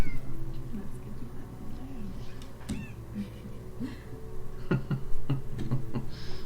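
In the video game Telling Lies, a cat gives a brief wavering meow amid low background hum, followed later by a series of short, scattered clicks and soft knocks.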